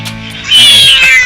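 A single loud, close cat meow rises sharply halfway through and holds for most of a second, following a brief quieter stretch of faint background music.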